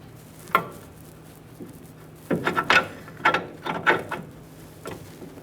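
A ratchet clicks in short bursts while tightening a rear shock mounting nut on a 1994-2001 Dodge Ram 1500. The bursts are close but fairly quiet, with gaps between them.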